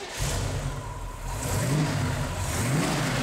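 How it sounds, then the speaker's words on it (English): A car engine, a grocery-getter fitted with bolt-on horsepower upgrades, fires up and revs in two rising surges over a steady mid-range idle, loud and close with no talk. "Go ahead and fire up, Chuck."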